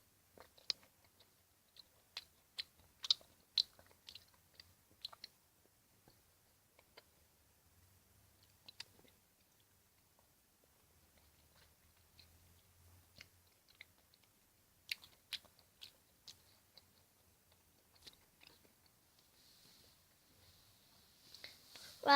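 Someone chews a tangerine, with quiet, irregular wet crunches and clicks close to the mic, clustered in bursts at the start, in the middle and near the end, separated by near silence.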